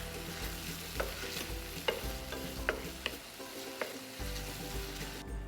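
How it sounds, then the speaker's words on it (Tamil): Onions and tomatoes sauté in a pan for a Tamil street-style bread channa, with steady sizzling broken by several sharp scrapes and clicks of stirring, and a brief lull near the end. "இப்போது இந்த வெங்காயம் தக்காளி கரெக்டாக வதங்கி இது இப்போ கரெக்டாக ரெடியாக இருக்குது"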